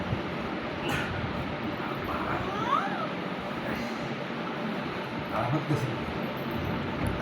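A cat meows once with a rising, wavering cry, heard faintly amid steady background noise and scattered voices.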